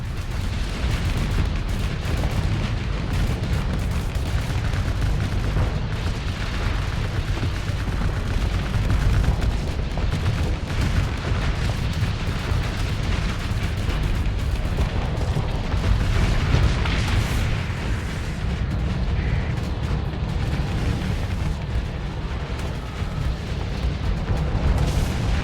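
Spaceship broadside cannon fire in the space combat game Starsector: a dense, continuous rumble of booming shots and bursts that keeps up without a break for the whole stretch, with no talking.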